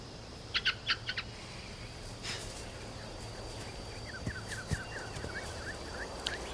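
A bird in the TV series Sinbad gives short chirps early, then a run of rapid, evenly spaced tweets later, fairly faint over a steady low hum and background noise.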